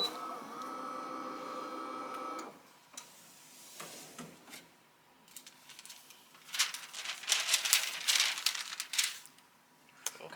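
Three colors of hot-peel foil transfer sheet are peeled off a freshly heat-pressed t-shirt, giving soft crinkling and rubbing that swells into bursts of crisp, close crackling.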